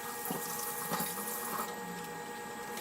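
Tap water runs steadily into a sink while food is being washed, a continuous hiss and splash that stays at an even, moderate level with no talking.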